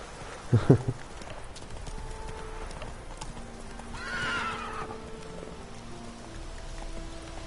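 Horse in The Witcher 3 video game whinnies loudly and briefly near the start, then clip-clopping hooves and a short rushing burst follow over a steady rain-like ambient bed, with no speech.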